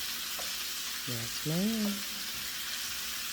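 Onions and sausage sizzle in a pan with a constant bright hiss, and a short spoken reply is heard partway through.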